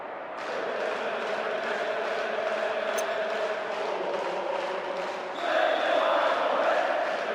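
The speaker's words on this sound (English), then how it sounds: "The crowd giving both manager and players some serious stick" A stadium crowd in PES 2010 jeers a football manager and players, a steady dense roar of voices that swells louder near the end, with a brief sharp whistle-like note partway through.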